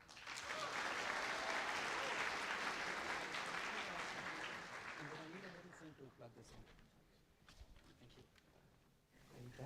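Audience applause at a hackathon opening, loud and sustained for about five seconds, then thinning out into scattered claps and murmuring voices.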